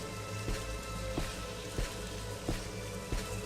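Steady rain hisses down across a heavily modded Morrowind landscape, a dense, even wash with soft recurring thumps every half second or so, no voices over it.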